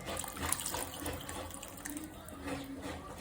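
Tamarind water splashes and trickles steadily into a pot of sambar for a few seconds, a continuous pouring sound with small surges, no talking.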